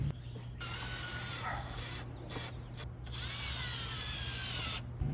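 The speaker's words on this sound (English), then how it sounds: "so I just drove those in with a drill." A steady, close mechanical whine of a drill driving ground anchors for a robot lawnmower, under a constant low hum, with faint bursts of higher tones over it.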